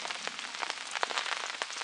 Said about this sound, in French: ils avaient annoncé un peu de pluie, mais alors là pour le coup, c'est pas un peu qu'on prend